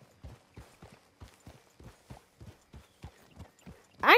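Horse hooves clip-clop at a steady walking pace in Red Dead Redemption 2, about a dozen evenly spaced soft thuds on a quiet background, ending with a sudden louder burst.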